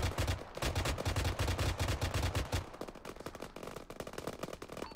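Rapid automatic gunfire in Arma 3 aimed at a helicopter, loud sustained bursts for over two seconds, then sparser, fainter shots continuing to the end.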